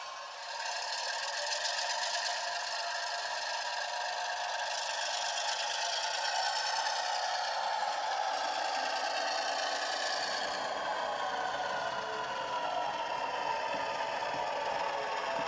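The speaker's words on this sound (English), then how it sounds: "I'm running some trains." A steady mechanical rattling whir of a small model train running continuously on its track, fairly close and even throughout with no voices.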